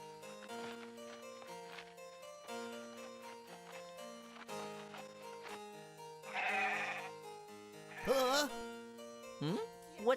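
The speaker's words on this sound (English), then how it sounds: "What's the matter with the sheep?" Uneasy sheep bleating in long, wavering cries, several animals calling in turn over a soft musical backdrop, with a louder, shakier bleat near the end.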